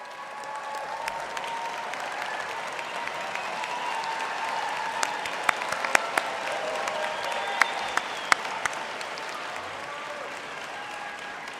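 Audience applause at a university autumn graduation ceremony: sustained, even clapping from a large crowd in a hall, moderately distant, with scattered sharper claps standing out and faint voices beneath.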